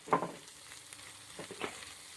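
Hamburger meat is stirred with a fork in melted butter in a pan, a soft sizzle with a sharp scrape at the start and a few quieter stirring strokes near the end.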